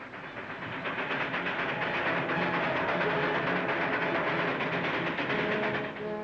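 A passing train in an Old West setting gives a loud, continuous rumble with rhythmic rattling and clatter that swells in and holds steady for several seconds, with no voices.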